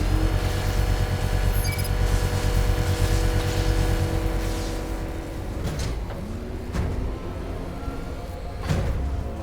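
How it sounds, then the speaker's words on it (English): A car engine in the Batman: Arkham Knight video game revs gently and holds a steady droning pitch, with a few mechanical clunks and a rising whine toward the end. "So you gotta rev it up gently."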